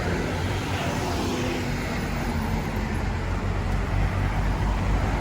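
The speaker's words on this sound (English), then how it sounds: "Here's one of the orange reggae buses." An orange reggae bus passes on a road in Barbados, its loud, steady roar of engine and tyres filling the whole stretch with no voices over it.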